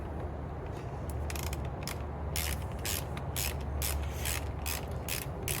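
A ratchet socket wrench tightening the battery terminal on a Chevy Cruze, making a run of quick mechanical clicks in short bursts over a steady outdoor background hum.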